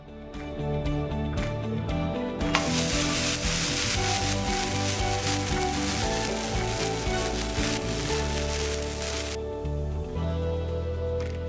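Amboli batter sizzles loudly on a traditional cast-iron tawa, a continuous bright hiss that swells after the first couple of seconds and eases near the end, with faint scraping under it and no talk.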